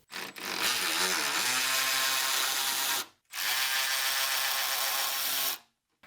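A power tool whirs and rattles in two long bursts while removing bolts from a B7 Audi A4, each run loud and close with a short pause between.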